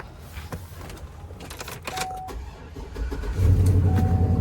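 A totaled, high-mileage Cadillac Escalade with two flat tires is started: a starter whine turns the engine over, then it catches into a steady low idle that grows louder and holds, close by.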